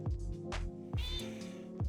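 Pet cat mewing close up, a few short calls spread over about two seconds, rising above a steady background hum.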